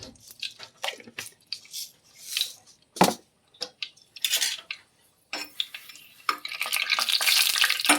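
Fenugreek seeds splutter in hot coconut oil, scattered sharp pops and crackles with utensil clinks and stirring, swelling into a louder continuous sizzle near the end.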